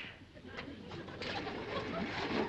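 A pigeon or dove coos at night near a mountain lodge, soft repeated calls over a low outdoor hiss with no talking.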